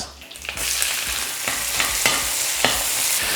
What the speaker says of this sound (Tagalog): Ngayon naman, ilalagay ko na muna yung sibuyas.